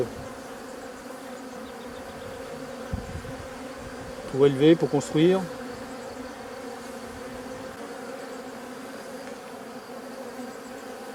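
Honeybees buzzing steadily at a hive, a continuous close drone, with a short burst of speech in the middle laid over the humming.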